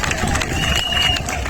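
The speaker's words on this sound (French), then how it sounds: "Applaudissez-vous vous-même." A crowd at a political rally in San-Pédro breaks into steady, dense applause that holds for the full stretch, with a murmur of voices mixed into the clapping.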